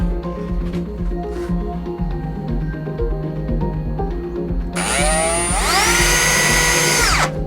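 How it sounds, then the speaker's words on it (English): A power drill driving screws to join two wooden pieces held at right angles, a loud rising whine that spins up and holds steady for a couple of seconds near the end, with quieter workshop handling before it. "now it's simply a matter of screwing it together."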